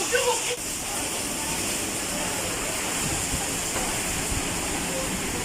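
Typhoon Quinta lashing Sorsogon, Bicol with heavy wind and rain, a dense continuous roar filling the scene, with brief voices underneath.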